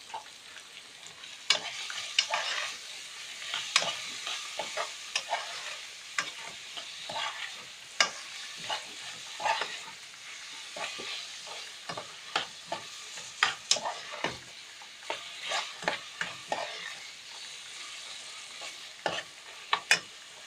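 Meat sizzles and fries in a pan while being stirred, with steady crackling broken by repeated scraping, clattering stir strokes close up; no talking.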